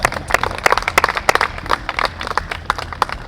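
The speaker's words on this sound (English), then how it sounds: "Round of applause." An audience at a team competition challenge gives a brisk round of applause. Dense, close clapping runs steadily throughout, with no voices.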